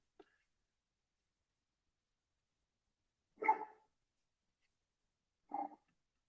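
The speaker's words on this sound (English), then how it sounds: "You can probably hear Baldwin barking in the background." A dog barks in the background, one faint yelp and then two short, sharper barks separated by a couple of seconds of quiet.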